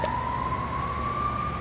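An emergency vehicle siren sounds outdoors near a backyard garden, a single steady wailing tone that rises slowly in pitch and is heard fairly loud over a constant background rumble.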